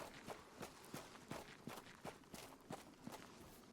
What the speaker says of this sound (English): It's different footstep sounds, but they're not from Tarkov, I think.